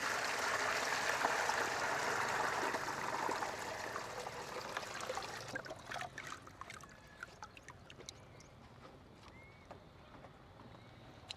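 Water pours steadily into a water lily planting pot in a rushing, splashing stream that stops after about five seconds, followed by faint drips and trickles.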